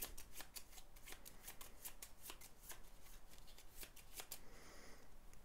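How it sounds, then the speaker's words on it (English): Wingspan game cards riffle-shuffled by hand at close range, a quick run of crisp flutters and snaps repeating steadily, with no talking. "And we'll reshuffle them."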